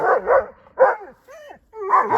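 A dog barks in a few loud, close bursts with short gaps between them, mixing deep woofs with higher whining yips.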